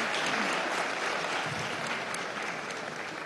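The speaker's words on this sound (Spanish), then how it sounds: "pido un fuerte aplauso" Applause fills the Venezuelan National Assembly during an Independence Day session as the speaker, filmmaker and historian Luis Alberto Lamata, is welcomed. The steady clapping is dense and moderately distant and carries on throughout.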